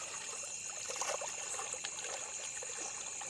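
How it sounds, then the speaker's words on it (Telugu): Water trickles and splashes softly and steadily while stones are being washed in it outdoors, a faint continuous dribble with small irregular splashes and no talk. "సో వాటర్లో వాటిని మేము కడుగుతున్నాం"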